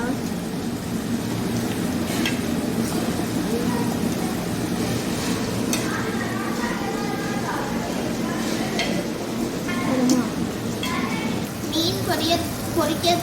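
Steady sizzling and scraping as food is stirred with pepper powder in a frying pan, a continuous frying hiss with occasional utensil clinks underneath.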